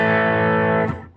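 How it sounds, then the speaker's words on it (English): An electric guitar played through a distortion pedal into a 1960 Bassman amp rings out as a single thick, buzzing sustained chord that decays and cuts off after about a second. "you can tell there's a distortion pedal on."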